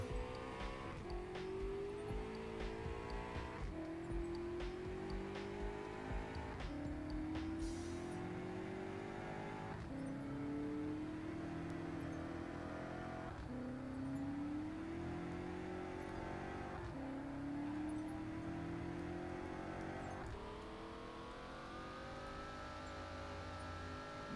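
Car in the Ukraine GTA video game driving and repeatedly revving through its gears, each climb in engine pitch followed by a shift, steady and close with no talking.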